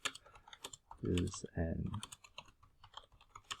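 Computer keyboard typing while composing a post in Microsoft Teams, a quick run of close key clicks alongside a speaking voice, with short pauses before and after.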